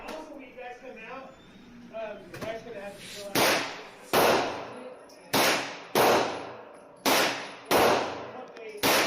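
A CZ Scorpion fires about seven sharp, loud shots at irregular intervals, each with a short ringing tail; someone talks briefly before the shooting starts.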